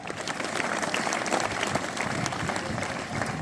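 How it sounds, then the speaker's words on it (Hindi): An audience at a Hindi debate competition claps with loud, dense, steady applause that fills the whole moment. "तालियां बजाने में कंजूसी ना करें, जोरदार तालियां।"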